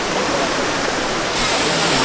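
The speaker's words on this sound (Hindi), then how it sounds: "इस ब्लॉग में हम एक्सप्लोर करने जा रहे हैं दूध सागर वाटरफॉल" Dudhsagar waterfall in Goa pours in a continuous broadband roar, loud and close, filling the whole moment with dense rushing water and nothing else.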